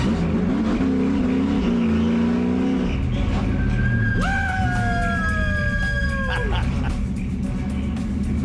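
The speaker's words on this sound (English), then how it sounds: "And here he is driving the pit stop car." A NASCAR ARCA race car driving out of a pit stop at Charlotte, its engine a continuous loud roar rising and falling in pitch as it revs through the gears, with faint voices underneath.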